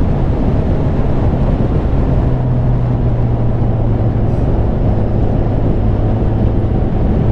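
A motorcycle rides along a bumpy road toward a castle. Its engine makes a loud, constant low rumble mixed with heavy wind buffeting, steady and close throughout with no talking.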